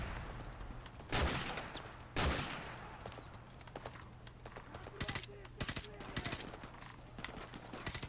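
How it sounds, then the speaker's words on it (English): Sniper rifle fire in the video game Modern Warfare Remastered: two loud, booming shots a second apart, followed by a scatter of quieter, sharp cracks and distant gunfire over a low steady hum. "I'm just gonna use the last of my sniper ammo then."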